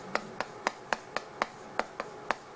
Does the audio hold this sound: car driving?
no